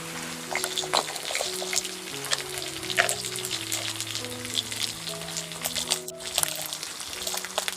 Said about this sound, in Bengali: পেঁয়াজটাকে একটু ভালো করে ভেজে নিচ্ছি এবার দিয়ে দিচ্ছি আদা আর শুকনো লঙ্কা বাটা